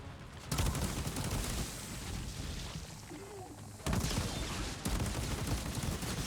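Video game gunfire from Outriders rings out as dense, rapid bursts of shots, fairly close and loud, with a brief lull in the middle before the firing resumes; no voices.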